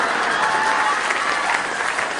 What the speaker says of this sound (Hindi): अब वही आदमी ताली बजा रहे हैं